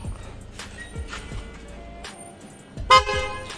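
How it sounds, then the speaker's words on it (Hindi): A loud trumpet horn fitted to a Suzuki Access 125 BS6 scooter sounds one sharp blast near the end at home, after quieter thumps and faint tones. "यहाँ पे घर में खाली एक बार ही प्रेस करता हूँ हॉर्न को"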